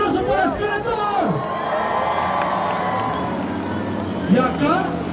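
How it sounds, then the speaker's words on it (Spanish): A monster truck show crowd in Querétaro roars and cheers for the truck Skeletor, with shouts and whoops mixed with some clapping. An amplified announcer's voice carries over the steady crowd noise. "¿Dónde está el aplauso para Skeletor?"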